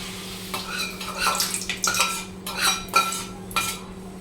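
A metal spoon stirs sizzled tempering into a bowl of yogurt for perugu punugulu, clinking close and repeatedly against the bowl in an uneven rhythm, with a soft wet swish between the taps.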